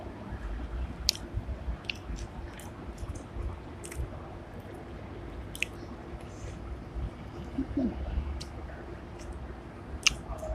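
A person eating a spicy Thai catfish larb with chili dip, close moist chewing and occasional crisp bites with wet squishy clicks, spread unevenly over a quiet background with no talk.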